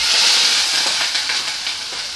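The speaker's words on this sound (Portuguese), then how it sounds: "Agora já estou fritar a linguiça" Linguiça sausage sizzles steadily in a hot pan, a dense, close, continuous frying hiss with faint crackle and no voices.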